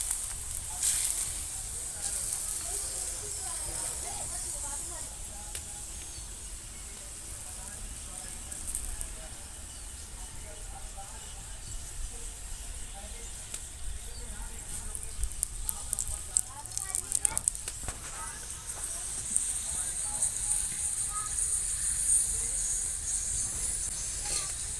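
A green pea paratha frying in oil on a griddle: a steady, close hiss and sizzle runs the whole way through, with a few crackling bursts, while someone talks over it.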